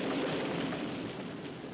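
A grenade blast from a comedy war sketch, a broad roaring burst that fills the moment and slowly rumbles away, with no voices.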